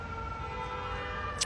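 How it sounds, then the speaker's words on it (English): Emergency vehicle sirens sound faintly from a distance in downtown Naperville, Illinois, a steady wailing tone held against quiet outdoor background. "Now we got sirens coming."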